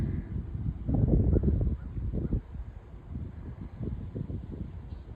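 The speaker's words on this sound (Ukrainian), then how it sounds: "Гуси пасуться." Geese honking in a loose, overlapping chorus, fairly close and steady, with a low rumble of background noise underneath.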